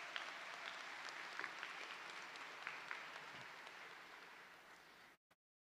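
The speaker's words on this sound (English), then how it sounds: "Please give them a round of applause" Audience applause at a high school commencement ceremony, a large crowd clapping steadily and evenly for about five seconds, heard from a distance before cutting off sharply.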